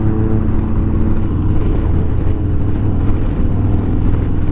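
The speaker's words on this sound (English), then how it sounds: "The car sounds like a bumblebee." Car engine drone while driving along, loud and steady from inside or close by, with a buzzing, bumblebee-like low hum and no talking.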